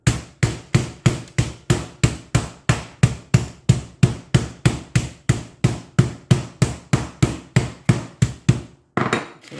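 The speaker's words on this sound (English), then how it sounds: "we're going to be using the flat side of the meat pounder. We're just going to kind of smash it out here." Flat side of a meat pounder smacks pork tenderloin in a fast, steady run of about thirty loud, close thuds, each decaying quickly, ending with a brief pause and one last hit.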